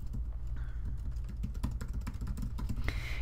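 Rapid keystrokes on a computer keyboard as a web address is typed, a close, steady run of light clicks with a few brief pauses and no talking.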